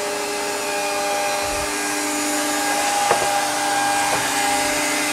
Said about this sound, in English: He's routing the edges.